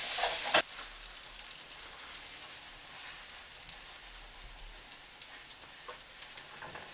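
A fried ramen noodle mixture sizzles in a pan, a soft continuous crackle with occasional stirring scrapes, after a brief loud burst of hiss at the very start.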